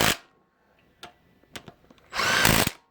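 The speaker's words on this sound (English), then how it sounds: "I'm impacting them in. I'm actually just running them down until they're tight so that I can use my torque wrench." An impact wrench runs bolts down on an LQ4 6.0 engine longblock, firing in two short bursts at the start and end with a few sharp metallic clicks and taps between them, close and loud.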